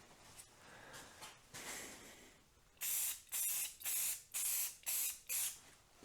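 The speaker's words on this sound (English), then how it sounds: "I'm just gonna put a couple very light coats of clear matte finish on this." A spray can lays light coats of clear matte finish onto a wooden piece: after some faint rustling, six short, sharp hissing bursts come in steady succession, close and fairly loud.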